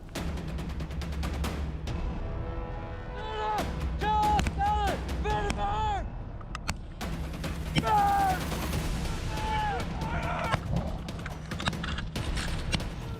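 Rifle fire from an army reservist fire team assaulting a position on a training exercise, heard as sharp repeated shots and short bursts, some near and some farther off, with someone talking over them.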